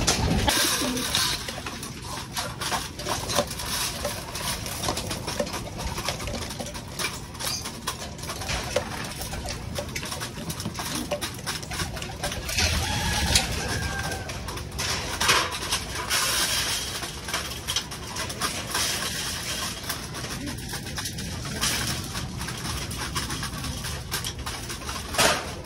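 Breeder pigeons in a loft while being fed, soft cooing mixed with a constant patter and scratching of birds pecking and moving, close and continuous with no talk.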